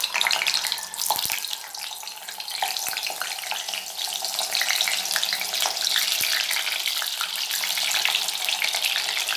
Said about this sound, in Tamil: இந்த பன்னீரை பொரிச்சு எடுத்துக்கோங்க